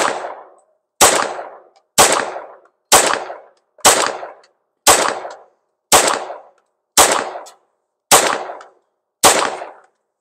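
A handgun fires CCI Mini-Mag .22 rounds outdoors, ten loud, sharp shots spaced evenly about a second apart, each cracking close and trailing off quickly, with no talking.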